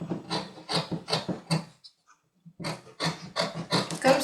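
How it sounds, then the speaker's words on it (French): Scissors snip through fabric while an abaya is sewn, giving a steady run of rasping cuts, a brief pause, then more rhythmic close cuts. "je prends mon ciseau et je coupe"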